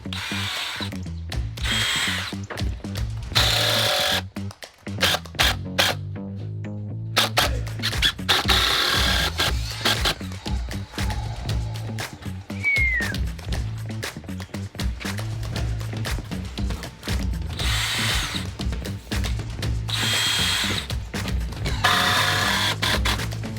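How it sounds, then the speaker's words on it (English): Power drill driving screws into the wood of an outdoor backyard bar, the motor whirring in repeated loud bursts with short pauses between, close up and with no talking. "Let's see what happens when I just drive some screws in before I decide to put any shims behind here to bring it out."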